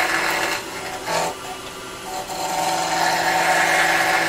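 A skew chisel cuts wood on a spinning lathe, giving a steady, close rasping scrape with slight swells and dips as the tool moves along the workpiece, with no one talking over it.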